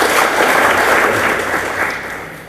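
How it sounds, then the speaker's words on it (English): An audience at a Makueni county performance event in Kenya claps together in loud, dense applause that swells briefly and then gradually fades. "Clap for yourselves."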